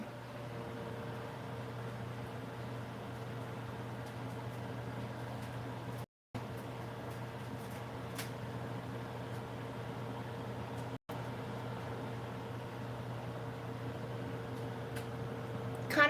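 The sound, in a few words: microwave oven running, heating food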